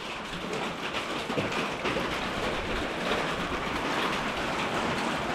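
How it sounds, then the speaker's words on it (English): Heavy rain from a thunderstorm with hail, pouring down steadily on cars and surfaces, a constant dense hiss of drops and pelting impacts with no voices. "If you can't hear, it's raining. We got a big old thunderstorm rolling in."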